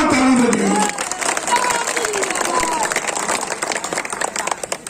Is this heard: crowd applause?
yes